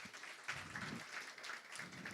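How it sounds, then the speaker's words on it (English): Audience applause filling a room at a women's banking launch event, a dense steady patter of many hands clapping throughout with faint voices mixed in. "Let's clap for ourselves."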